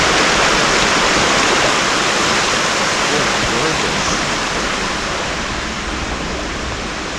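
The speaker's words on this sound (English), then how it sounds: "I mean, just look at that water flowing," Waterfall at a popular Jamaican tourist spot, a loud, steady roar of rushing, splashing water filling the whole stretch without a break, alone and close by.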